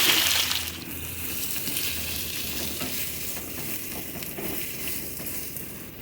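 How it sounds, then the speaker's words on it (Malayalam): Four onions sautéing in hot oil with fennel and cinnamon in a pan for chicken curry, a steady hiss of frying heard close up with a faint stir or two and no voices. "ഇനി നമുക്ക് സവാള ഇതിലേക്കിട്ട് നന്നായിട്ടൊന്ന് വഴറ്റിയെടുക്കാം"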